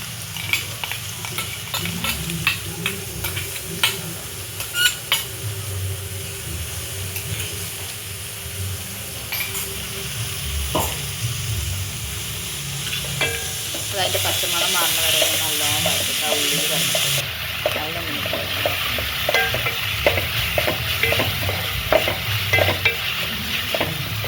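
A ginger, garlic and fennel mix sizzles steadily in a pan while a spoon stirs it with repeated scraping strokes. The frying noise is continuous and close, and occasional clinks sound against the pan.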